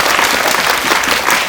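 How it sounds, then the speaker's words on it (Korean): A cinema audience at a Korean film Q&A screening claps in a dense, loud, continuous burst with no break. "박수 한번 부탁드릴게요"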